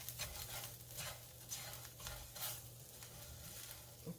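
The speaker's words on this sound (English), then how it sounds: "Give this a little stir." Pasta in burst cherry tomato sauce is stirred in a pan, giving soft rhythmic scraping strokes over a low, quiet sizzle.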